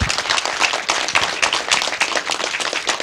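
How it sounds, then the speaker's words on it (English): A round of applause fills the room as an audience at an evening ceremony claps for an honoured guest. The clapping is loud, close and continuous, with no talk over it. "Can we please have a round of claps for him?"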